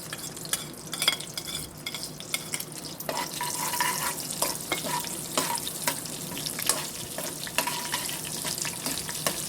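Whole spices such as cumin, mustard seeds and peppercorns tempering in hot oil for a cabbage and potato sabzi, giving a steady close sizzle with scattered crackles and spoon scrapes, and no talk.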